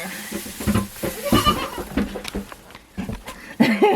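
Goats bleat repeatedly on a farm during hay feeding, several short wavering calls close by, mixed with rustling and light voices.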